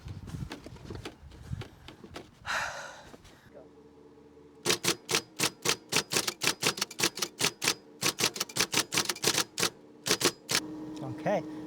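A battery-powered IBM Selectric electric typewriter types in fast, loud, evenly spaced strikes that run in bursts with brief pauses, after a short stretch of someone speaking.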